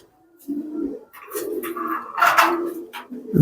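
Rajshahi Giribaz pigeons at a pigeon farm cooing close by, soft low throaty coos in a few short phrases rising toward the end, with no talk.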